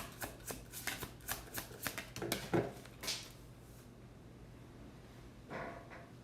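A deck of playing cards shuffled close up, a quick run of crisp riffling flutters and snaps for a few seconds, then a pause and one softer riffle near the end.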